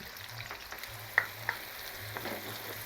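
Minced pork stir-frying with bean sprouts and scallions in a pan for tofu with pork, a quiet steady sizzle with a couple of sharp spatula scrapes and clicks, with no talk.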